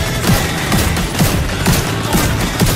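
Turret gunfire in a team-based control-point video game, rapid repeated bursts rattling steadily throughout at a loud, close level with no pauses.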